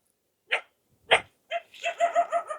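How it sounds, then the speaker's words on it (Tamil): Dogs bark at a house doorway, first two separate sharp barks, then a quicker run of yapping barks, fairly near and alone with no talk. "வாசல்ல ஒரு நாய் பின்னுக்கு அங்க 2 நாய் அடுத்த நாய் முன்னு கொண்டு."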